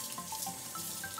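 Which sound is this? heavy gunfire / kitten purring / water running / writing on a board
water running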